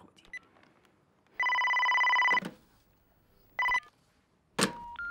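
A telephone rings in a domestic drama scene, a bright electronic tone that sounds for about a second, stops, then chirps again in shorter bursts, with clicks between them and no talk.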